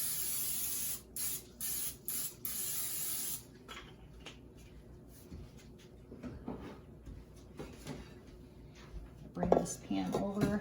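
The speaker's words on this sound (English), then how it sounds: "And I'm just going to spray it with my olive oil." Olive oil cooking spray hisses onto a greased 9x13 baking pan in a home kitchen, in a few short close bursts, followed by quieter handling noises and some kitchen clatter.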